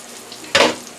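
Home fries with peppers and onions frying in a pan: a quiet background, then one short, loud sizzling burst, as if the food were stirred or turned, that fades back down.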